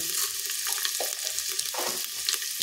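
Panch phoron whole spices frying in hot oil, after dried chilies and garlic, make a bright, steady crackling sizzle with a few stirring scrapes, close and without voices.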